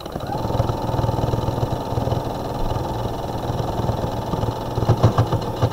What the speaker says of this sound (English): You're going to hear the needle going through the thicknesses.